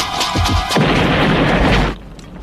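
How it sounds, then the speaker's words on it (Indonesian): In GoldenEye, a train explodes: a loud, sustained blast roars for over a second after a brief rumble of game noise, then cuts off sharply into quieter background. "Mereka keluar dan kereta pun meledak."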